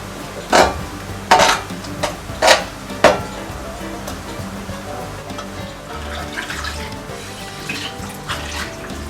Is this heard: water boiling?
yes